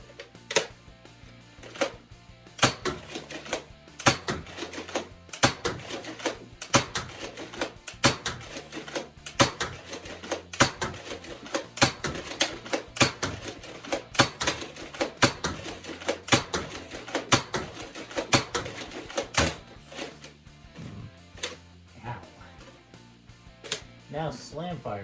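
A Buzzbee EZ Fire toy dart blaster fires a full magazine of darts in a rapid series of sharp, close mechanical clacks, each shot distinct, with a few short pauses in the string.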